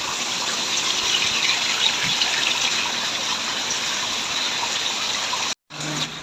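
Water gushes steadily out of a swimming pool as it is drained, a loud continuous rushing hiss that cuts out abruptly near the end.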